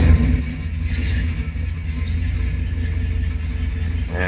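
A 1965 Pontiac GTO's 389 Tri Power V8 with a 4-speed, indoors, turns over and catches with a loud low rumble, then idles and revs steadily and close by.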